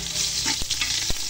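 Garlic sizzles in a pan while making beef pares, a brief close hiss with a couple of quick stirring knocks.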